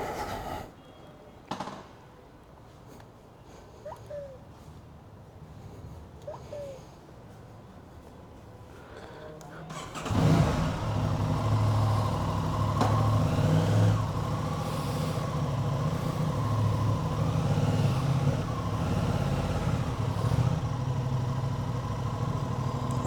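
An Aprilia RS660 sport motorcycle is moved out after a few quiet knocks and handling sounds, then its engine fires up and settles into a loud, steady idle close by.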